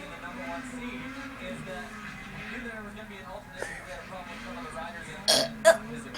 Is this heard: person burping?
yes